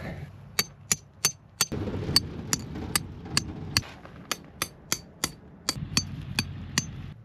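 A hammer drives tent stakes for hot tent guy wires at a winter camp, about twenty sharp metallic strikes in quick, uneven bursts close by, with faint low rustling between blows.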